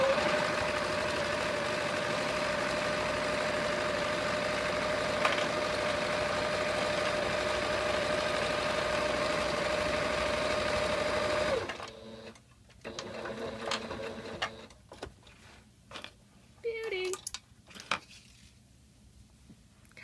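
A sewing machine stitches elastic into swim diapers with a steady, continuous whir for about twelve seconds, then stops, followed by scattered light handling clicks and fabric rustles.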